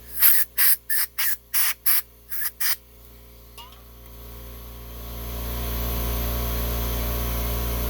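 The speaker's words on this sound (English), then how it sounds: "just spray a little bit of brake cleaner on the rag" Brake cleaner aerosol sprayed in eight short, loud hissing bursts during work on a 2011-2017 Honda Odyssey EGR, followed by a fainter single blast and a steady rising hiss.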